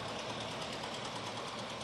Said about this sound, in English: He's driving a 1940 Farmall.